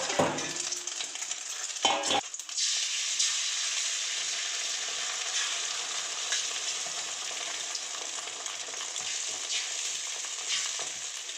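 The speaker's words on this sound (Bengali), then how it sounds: "এই ডিম দুটো আমি ভালো করে কুচো কুচো করে নেবো খুন্তির সাহায্যে।" Beaten eggs sizzle in hot oil as a metal spatula chops and scrapes them, a steady broadband frying hiss with a couple of louder knocks early on, close and continuous.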